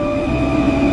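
A New York subway train gives off a loud, steady rumble and hum with sustained tonal whines, close by and with no voices over it.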